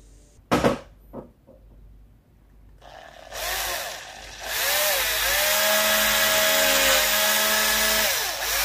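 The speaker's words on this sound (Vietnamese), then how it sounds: "Bây giờ mình sẽ dùng một cái mũi khoan 3 ly như thế này để khoan cái này" A power drill fitted with a 3 mm bit bores a hole for a drip irrigation fitting, starting after a few knocks and running as a steady, loud, close whine for several seconds.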